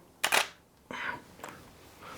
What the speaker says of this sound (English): So there you go, I'll take a photograph.